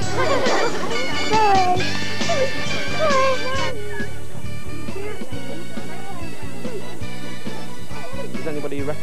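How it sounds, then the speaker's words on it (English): A dog at an animal hospital whimpers and yips in high, wavering cries, close and loud, over a busy background. "Does anybody recognise the dog sat here?"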